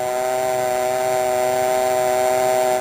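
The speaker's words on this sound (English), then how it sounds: "Then remove the receiver and listen for the dial tone." A steady telephone dial tone hums continuously and evenly for a few seconds, a clear, unchanging sustained tone heard alone.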